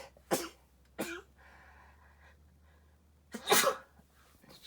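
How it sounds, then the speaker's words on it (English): Several sneezes from one person: a sharp burst near the start, a second soon after, then a louder, longer sneeze a couple of seconds later, close to the microphone, with a quiet room between them and no speech. "I'm gonna sneeze."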